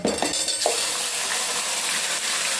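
Cumin roasting in a hot pan, a continuous bright sizzle with a couple of brief clanks of a utensil at the start, close and fairly loud, no talking.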